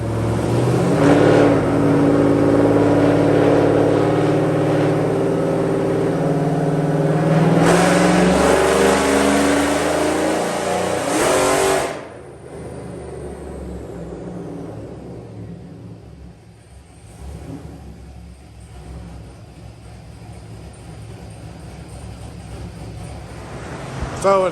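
A built WS6 car engine roars loudly on a dyno, holding a high, climbing rev for about twelve seconds before cutting off abruptly and dropping to a lower rumble.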